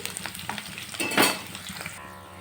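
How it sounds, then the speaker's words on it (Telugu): Fish pieces fry in hot oil in a pan for a fish curry, a soft steady sizzle with light stirring and utensil clinks, fairly quiet and close. "కొద్దిగా గోల్డెన్ కలర్ వచ్చే వరకు వేయించుకోవాలి"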